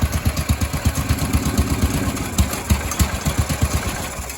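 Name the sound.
1976 Sears ST12 garden tractor engine running and dying out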